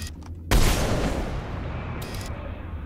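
A three-round gun fires in Mass Effect 3, one loud booming burst that rolls into a long decaying rumble, followed by a brief high metallic ring.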